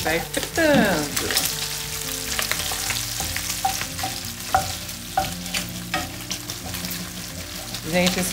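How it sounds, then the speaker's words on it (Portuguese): Casoncelli pasta sizzles and fries steadily in a pan while a utensil scrapes and stirs, with occasional clinks of metal against the pan. "Isso aqui vai fritando."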